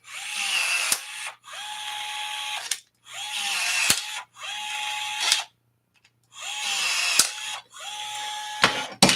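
A battery-powered rivet tool sets rivets in a Rans S21 aircraft aileron, making four whirring pulls about a second long with short gaps between them, each ending in a sharp snap, close and clear.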